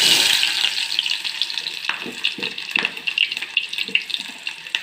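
Onions dropped into hot oil in a pan, a loud burst of sizzling that settles into a steady frying hiss, with a few stirring scrapes near the end.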